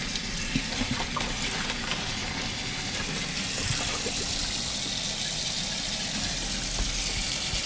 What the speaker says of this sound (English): So I'm going to rinse out the bag.